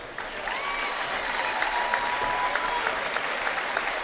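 Sustained audience applause fills a high school gym honoring the Norwell boys basketball seniors, a dense steady roar of many hands with a faint whistle-like tone drifting through.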